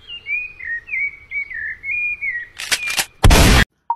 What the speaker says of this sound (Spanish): ¿te cansas de ese pajarito que canta a la mañana?